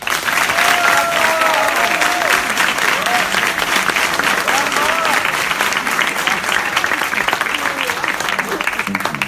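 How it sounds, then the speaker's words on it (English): Sustained, dense applause from an audience at a 2017 demo day event, loud and steady for the full stretch, with a voice faintly audible through the clapping. "So give them a round of applause."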